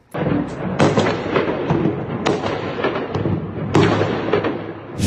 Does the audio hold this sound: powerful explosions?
yes